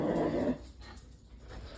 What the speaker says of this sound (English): Corgi has to go do his job barking at the yard